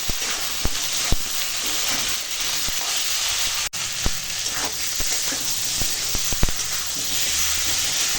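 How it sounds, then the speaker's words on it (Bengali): Turmeric, chili powder and salt sauté in hot oil with vegetables for a Bengali rohu fish curry, giving a steady hiss and sizzle broken by scattered crackles and small pops, with no talk. "হলুদের গুঁড়ো দেবো লঙ্কার গুঁড়ো আর দেবো স্বাদ মতো লবণ দিয়ে এখন আমাদের সঙ্গে মশলা কষাবো"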